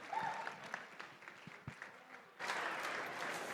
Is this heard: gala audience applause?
yes